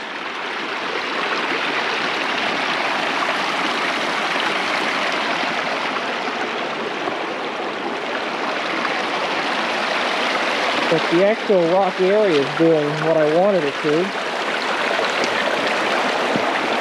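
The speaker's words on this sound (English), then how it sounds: "All the water's running underneath the rocks. You can hear it, but you can't see it." Water rushes and gurgles steadily nearby like a small stream, flowing unseen beneath rocks in a rock-filled ditch, while someone speaks briefly over it partway through.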